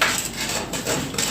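Mixing baking ingredients in a bowl, a steady close scraping and stirring sound with no talking.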